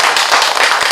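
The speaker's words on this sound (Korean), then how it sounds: "여러분들 행복한 여러분들한테 박수 보내드리고 싶어요." Close, loud clapping from an audience at a tourism and culture planner training session in Miryang, a brief burst of dense hand claps with no talk over it.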